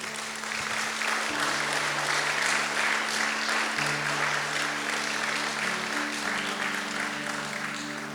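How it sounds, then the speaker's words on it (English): Wedding guests cheer and applaud right after a couple is pronounced husband and wife at a La Jolla, San Diego ceremony, a steady full crowd of clapping with whoops and raised voices for several seconds. "When your family's done cheering"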